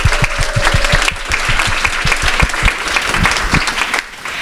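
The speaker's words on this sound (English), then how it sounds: "So applause for our first speaker, Sherry." Audience at a female-led Austin community panel discussion applauds a speaker, with loud, close, dense clapping that stays steady through most of the stretch before thinning out at the end.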